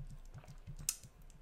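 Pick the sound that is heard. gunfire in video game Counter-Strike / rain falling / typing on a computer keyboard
typing on a computer keyboard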